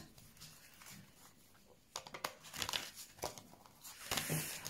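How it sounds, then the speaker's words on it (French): Oracle card drawn from a deck during a tarot-style reading: soft papery shuffling and crinkling rustles in a few short bursts, close and quiet, with no talking. "on va tirer la dernière carte"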